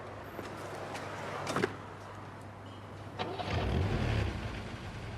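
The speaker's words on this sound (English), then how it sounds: "When Steve heard the sound of a car starting" A Ford Capri engine cranks and catches, rising to a low rumble after a few faint clicks and a door-like thump, fairly quiet and heard at a distance.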